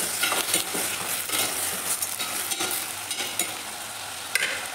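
A ridge gourd chutney mixture with coriander fries in a pan, giving a steady loud sizzle with occasional stirring scrapes, no voices.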